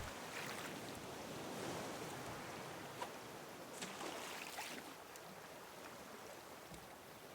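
Rough sea waves wash around a raft in the game Raft, a continuous close roar of surf and splashing water with wind noise and no voices.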